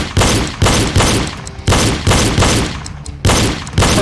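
Pistol shots ring out in a shooting drill, about ten loud, sharp reports fired close by in quick uneven bursts, each with a short decaying tail.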